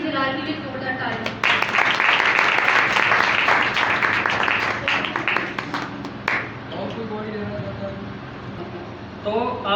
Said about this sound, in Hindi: खुदावंद की जलाल के लिए जोरदार ताली।